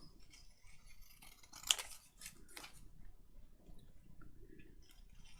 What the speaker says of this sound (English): let's just trim these extra bits off.